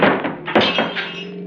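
Radio drama effect of a car slamming into a man: a heavy thunk opens, followed by glass smashing and scattered clattering impacts that tail off within a second and a half.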